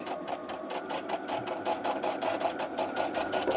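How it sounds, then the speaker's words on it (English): A sewing machine runs steadily at a longer stitch length, stay stitching along a curved piece of fabric guided by the presser foot, with a continuous close whir and rapid rhythmic needle pulses throughout, no talking. "I'm going to use a little bit of a longer stitch, not a basting or gathering stitch, but just a little bit longer"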